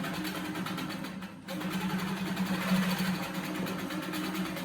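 A sewing machine runs steadily while stitching fabric printed from a sheet, a continuous mechanical hum with a brief pause near the start, close and moderately loud.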